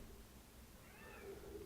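A cat meows once faintly in a quiet room, a short rising-and-falling call over low background noise.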